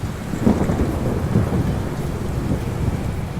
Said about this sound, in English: just as we arrived there was an almighty crack of thunder